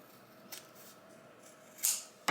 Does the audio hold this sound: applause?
no